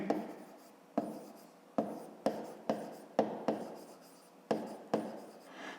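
A pen writes by hand on paper while a 5th-grade maths exercise is worked out, giving a quiet, close series of about ten scratchy strokes at an uneven rhythm, each fading quickly, with no talking.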